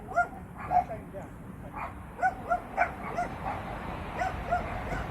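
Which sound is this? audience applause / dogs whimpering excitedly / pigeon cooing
dogs whimpering excitedly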